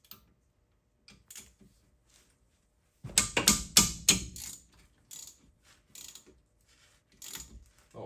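A wrench working on brake disc bolts during a car brake replacement, sparse metallic clicks at first, then a burst of loud ratcheting and clanking with scattered taps after.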